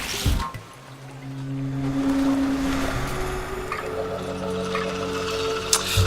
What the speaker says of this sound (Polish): Kurde, zalewa tą wodą.